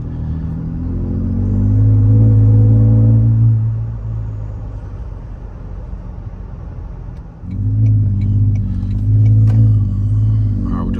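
A Toyota Sequoia or Tundra fitted with an aftermarket exhaust revs up twice close by, each time a deep rumbling swell that then drops back to a low idle, with no talk over it.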